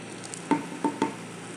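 Corn soup seasoned with black pepper, cumin, coriander and salt is stirred in a pot, with three quick, soft sloshing strokes over a quiet simmering background.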